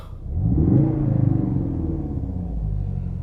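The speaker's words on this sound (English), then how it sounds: "this car sounds really nice." A powerful car engine revs up loudly and close, a deep throaty rumble rising then settling into a steady idle growl.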